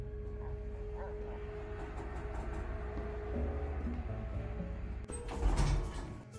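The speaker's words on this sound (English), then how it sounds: "Oh, I hear a doggy." Faint barking from a dog in a horror video game sounds out briefly amid a low ambient hum, followed by a sliding, mechanical rush near the end, like an elevator door.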